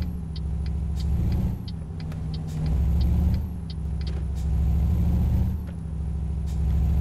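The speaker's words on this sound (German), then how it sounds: "Dicke Sportwagen muss ja auch sein. Oh, und der brüllt, Leute." A loud sports car engine roaring in Euro Truck Simulator with Promods, a steady deep rumble swelling and easing in waves, with faint periodic clicks on top.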